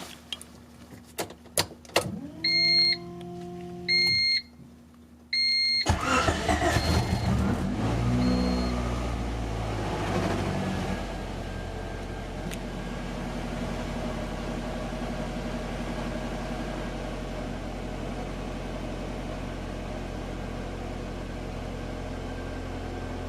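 A Honda CRX with a B16 engine and a repaired idle air control valve cranks briefly with clicks and a starter whine, catches, and settles into a steady, close idle that continues alone.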